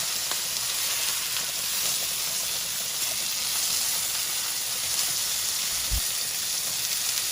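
Country fried steak sizzles in a pan with a loud, continuous frying hiss held close by, broken by a single soft thump near the end, with no voices.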